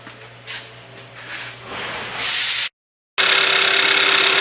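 A Hyundai Elantra GT with an intermittent no-start fault runs loudly at close range, a low hum swelling into a harsh, hissing roar that briefly cuts out completely before returning at full strength.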